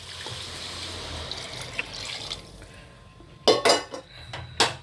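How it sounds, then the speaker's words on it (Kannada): Heated water is poured into a pan of chicken biryani, a gurgling pour under kitchen noise that ends in a few loud metallic clanks of utensils against the pan. "ಈಗ ಕಾಯಿಸಿರೋ ನೀರು ಹಾಕ್ತೀನಿ."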